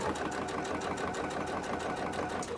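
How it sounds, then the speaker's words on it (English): A sewing machine back-stitching fabric makes a continuous, even mechanical whirr with a fast regular pulse, close and steady from start to end. "remember when you start off, you know, back stitch just to make sure everything stays secure."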